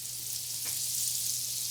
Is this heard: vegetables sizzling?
yes